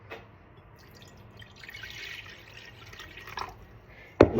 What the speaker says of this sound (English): first I am adding 1 glass of water